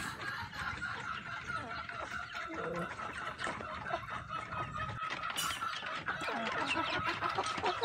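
Rhode Island Red chickens cluck softly while foraging for spilled feed in a small backyard poultry pen, with scattered faint clucks and rustling under a quiet background and occasional human voice nearby.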